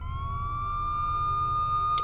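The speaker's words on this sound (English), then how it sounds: "In the distance, police sirens approached" Police sirens wail steadily as a sound effect in a spoken horror story, a continuous rising tone heard clearly, as if drawing nearer.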